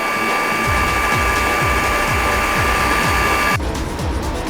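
Electric hand mixer beating butter, sugar and eggs for a white plum cake batter, a loud steady motor whine with rhythmic scraping pulses as the beaters turn, the pitch shifting near the end.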